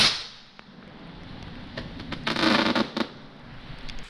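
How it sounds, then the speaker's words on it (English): A TNT Fireworks booster rocket goes off in the rain, with a faint whoosh building to a loud crackling burst of sharp pops and bangs, then scattered crackles fading out. "This is one of the booster rockets again by TNT Fireworks."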